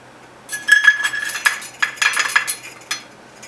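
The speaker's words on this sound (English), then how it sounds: "I'm going to get a bowl" Clinking and rattling of a bowl and nuts as walnuts and pecans are measured out, a quick run of bright clattering taps close by, then a last few clinks, with no talk.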